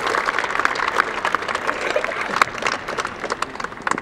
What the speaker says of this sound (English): a special round of applause for our two managers